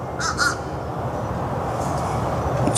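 Two hoarse caws from a big raven come early and fairly clear, followed by steady outdoor rumble with a faint call near the end.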